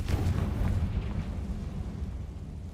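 A Confringo spell explosion in Hogwarts Legacy, a heavy, rumbling blast that hits at once and then fades slowly into a low roar, loud and alone.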